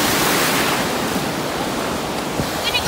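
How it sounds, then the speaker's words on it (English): Steady broadband wash of ocean waves on a beach, continuous and fairly loud throughout, with wind noise in the mix and no talking. "The waves are pretty nice."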